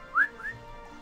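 Two short upward-sliding whistled chirps from a person whistling close to a microphone, the first louder than the second, like imitating a canary, alone over a quiet background.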